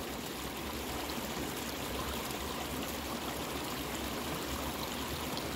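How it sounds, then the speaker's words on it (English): A creek flows over rocks in a steady, close rush of water, with continuous broadband babbling and no voices. "I'm literally standing over the creek on some rocks."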